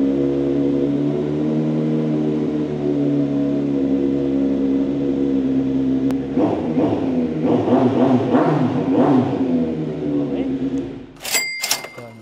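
A big-bike motorcycle idles steadily at close range, then its engine is blipped through several short, rising revs before easing back, with a brief clatter at the end.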